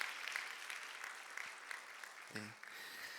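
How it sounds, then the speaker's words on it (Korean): Church congregation clapping for gayageum and piano players at a prayer meeting, soft continuous applause from a modest gathering, fairly faint throughout, with a brief low thump near the end. "고맙다고 축복하며 박수하겠습니다."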